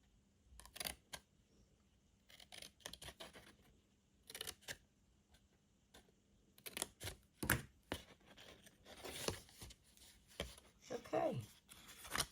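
Scissors snip through card while a Tic Tac box is being made, a few short, close crisp cuts scattered among paper handling and rustling, with no one talking.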